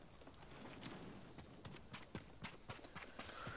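Horse hooves in the video game Ghost of Tsushima clip-clop in an uneven trotting rhythm over a soft, muffled background, fairly quiet and close.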